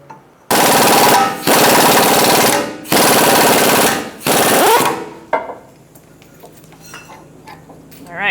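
A power tool hammers hard in four long, loud rattling bursts, driving a ball joint press tool on a 2002-2006 Honda CR-V, followed by metallic clinks and quieter shop noise.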